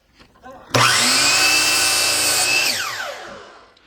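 A power saw cuts through a wooden board for a star project: a brief spin-up, then a loud, steady whining cut lasting about two seconds before the motor winds down.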